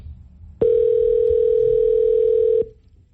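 A telephone tone on a radio call-in show sounds as one steady, loud, pure beep lasting about two seconds, starting and stopping abruptly over a faint murmuring background.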